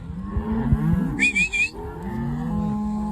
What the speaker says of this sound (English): Just got done moving these cows up here in the next pasture.